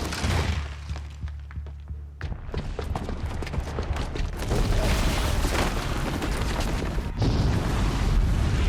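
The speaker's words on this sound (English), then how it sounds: "the booby trap on the bomb downstairs is gonna get set off" A bomb booby trap going off in Horizon Zero Dawn, a deep booming blast with shattering debris and heavy rumble that swells and stays loud, broken by thuds and crashes throughout.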